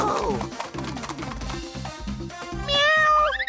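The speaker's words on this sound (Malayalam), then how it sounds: "അയ്യോ, പൂച്ച കുറുകെ ചാടി." A cartoon cat meows loudly, rising and bending in pitch, over busy bouncing background music.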